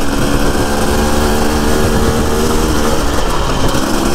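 Husqvarna TE300i enduro motorcycle on a trail between Aberdulais and Banwen, its engine a loud, close, continuous buzzing drone with no voices over it.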